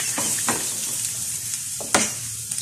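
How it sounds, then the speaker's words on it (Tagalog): Garlic being stirred in a sizzling pan for spicy chicken pastil, steady frying hiss broken by several scraping spatula strokes and a sharp clack near the end, close and clear with no talk. "So ayan yung bawang. So halo-halo lang muna,"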